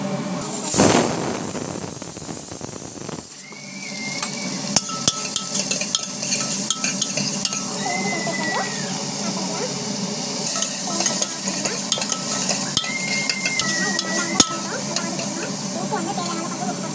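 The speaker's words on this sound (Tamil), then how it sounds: "நல்லா வந்து வதக்கிக்கோங்க." Ground spice paste sautéing in hot oil in a village kitchen, a steady loud sizzle and hiss with occasional stirring scrapes, close up, continuing throughout with no talking over it.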